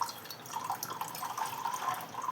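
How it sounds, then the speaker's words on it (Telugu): Water runs in a thin, steady splashing stream for a couple of seconds, faint and close, with no voices. "ఇలా నీళ్ళు పోసుకోవాలా?"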